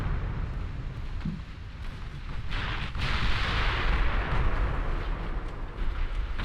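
Torpedoes striking warships in a 1920s German naval battle in the game Ultimate Admiral Dreadnoughts, heard as heavy booming explosions and a rising roar of rumbling impacts with no talk.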